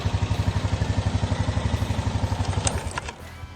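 Honda Rubicon 520 ATV engine just after being pull started, a close, loud, steady low chugging idle with rapid even pulses and some mechanical clatter, then a brief higher rattle near the end.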